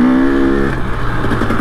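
Motorcycle engine straining loud and close in the wrong gear while being ridden around trees, a steady droning roar with a pitch that dips as the revs fall.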